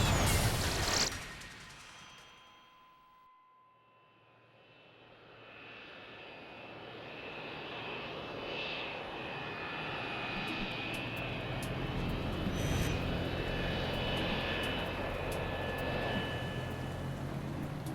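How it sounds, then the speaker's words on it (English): Aircraft engines of Crossair Flight 498 idle at Zurich International Airport before take-off, a broad steady roar with a whining tone that swells after a brief dip and holds loud and continuous, with no talk. "Passengers on board Crossair Flight 498 are waiting to take off."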